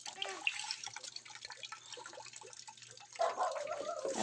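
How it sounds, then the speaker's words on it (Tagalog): Steady drips of water falling from a tap into a bucket late at night, a continuous wet patter with a louder splashing stretch near the end, heard up close. "tulo ng gripo"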